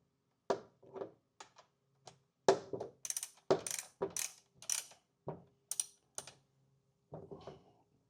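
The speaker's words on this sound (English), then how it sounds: "I'll tighten one of these nuts up here." A wrench tightens a bar nut on a chainsaw with a string of sharp, close ratcheting clicks and small metallic handling knocks in irregular bursts, quiet and without talk.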